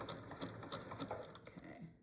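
A sewing machine fitted with an open-toed walking foot stitches coiled rope for a rope bowl, giving a quick, even mechanical chatter of needle strokes, close and soft.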